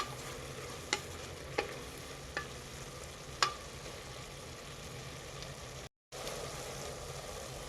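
About four green chillies fry in a kadai, producing a soft, even sizzle with a few faint clicks of a spoon against the pan, quiet and without voices, briefly cut out near the end.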